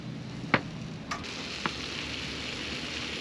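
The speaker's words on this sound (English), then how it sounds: "Let's sizzle them on there for a bit." Steady frying sizzle from food in a hot pan, a continuous crackling hiss with a few sharper pops, close and fairly quiet.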